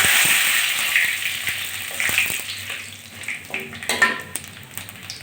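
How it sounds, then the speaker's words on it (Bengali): Panch phoron, bay leaf and dried red chilli hit hot oil in a kadai, giving a soft, steady sizzle with faint crackles and pops, close and low in level. "তেল দিয়েছি কড়াইতে এখন আমি পাঁচ ফোড়ন ফোড়ন দিচ্ছি আর দিচ্ছি তেজপাতা আর শুকনো লঙ্কা"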